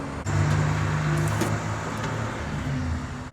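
A Mopar drag truck with a 440 engine turns over and catches, a steady loud engine rumble running near and continuous through the moment.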